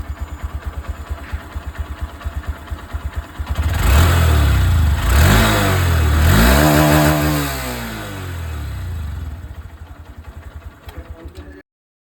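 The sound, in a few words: 125cc motorcycle exhaust sound, engine revving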